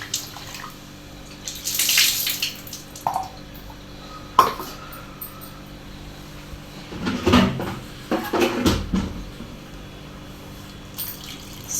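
Tamarind being washed under a running kitchen tap, with short splashing bursts of water broken by quieter pauses, a few light knocks of a bowl or container, and a longer gush near the end.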